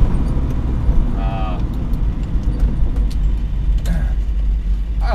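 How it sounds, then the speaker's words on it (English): A Volvo 240 fitted with MagnaFlow mufflers runs with a deep, steady low exhaust drone and engine rumble, close and continuous, while someone speaks over it. "found the corresponding sized MagnaFlow mufflers to put on the car. Added a bit of power, makes the exhaust note sound much better."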